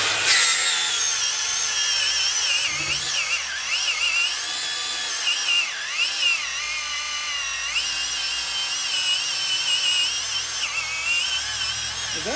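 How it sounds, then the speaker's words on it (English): A power saw cuts through the brake lines of a 1959 Chevrolet Apache truck, giving a loud, high, continuous whine with wavering pitch as the blade bites. "Use that saw, cut through them brake lines"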